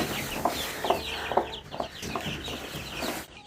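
Hens clucking inside a cramped chicken coop, a laying hen among them, with several short bursts of clucking at a close, moderate level and steady background fowl noise.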